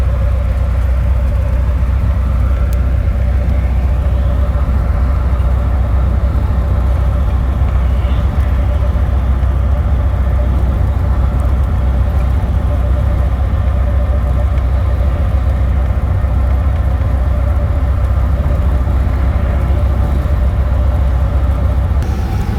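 Steady, loud cabin roar of an M Trans intercity bus on the Malang–Jakarta route at 129 to 145 km/h, with a continuous low engine and road rumble that does not change.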